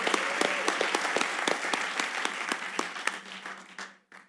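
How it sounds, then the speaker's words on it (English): An audience at a conference session applauds, dense clapping that starts full, gradually thins to a few scattered claps and fades out near the end. "Let's get applause for that first,"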